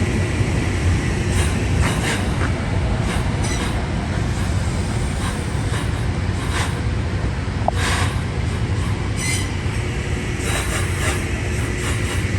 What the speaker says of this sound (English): Train 1972 is going to be coming in.